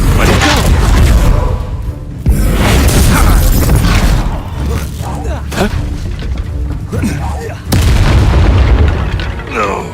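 A Confringo spell explosion in the Hogwarts Legacy video game: heavy booming blasts and crackling bursts over a dense, loud bed of game effects, with a couple of brief dropouts between the hits.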